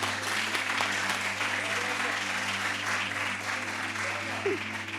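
A studio audience at a live French television show applauds steadily and fairly loudly throughout, with a constant low hum underneath.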